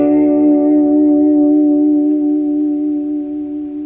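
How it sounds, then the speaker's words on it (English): Sustained electric guitar note wavers quickly and gently as the whammy bar dips it flat and pushes it sharp, creating a shimmering vibrato with echo and effects, played alone and fading slightly. "And here it is going flat and sharp, or creating a vibrato."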